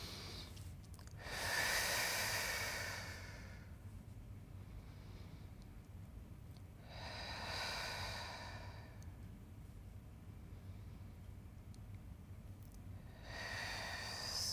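Three slow, deep breaths during a Pilates glute stretch, each a long breathy exhale of several seconds separated by quiet pauses, close and fairly soft with no talking over them.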